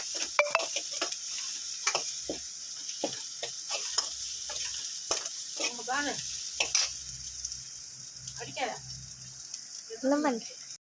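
Tempering spices sauté in a pan with a crackling sizzle and scattered sharp pops and clicks across the whole stretch, as a spoon stirs now and then and a voice talks intermittently.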